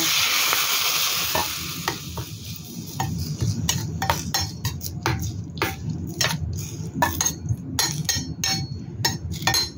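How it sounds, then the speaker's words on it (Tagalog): Hot oil hitting steamed prawns sets off a loud, close sizzle, with bright clinks of metal utensils and scraping in the pan that carry on for several seconds. "ito yung ating pinainit na oil. Ilagay natin dito."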